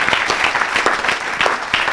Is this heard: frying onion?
no